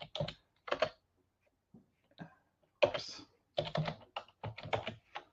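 Computer keys are typed in short, quick bursts of crisp clicks with pauses between them, close and fairly quiet.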